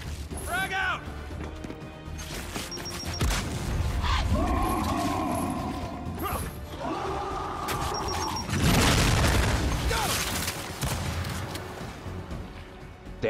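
A frag grenade blows up in the video game Gears 5, with booming blasts, crashing debris and mechanical clanks, and a voice talking over the action.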